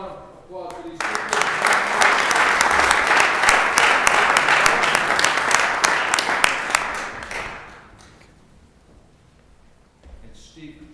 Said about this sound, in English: How about a round of applause for these people?